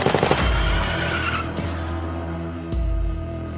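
Thirteen gunshots fired at a car on a city street at night, reconstructed as a sound effect; a rapid burst of sharp loud bangs opens, then a low rumbling engine drone with two more sudden cracks, no talking.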